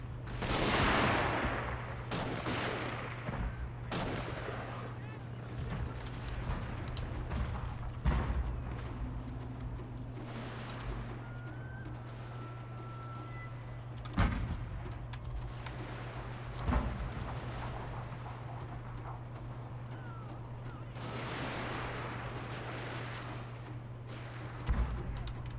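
Troops firing in the video game Shogun 2: Fall of the Samurai, scattered musket-like shots and distant battle rumble, with a few sharper reports standing out over a constant low hum.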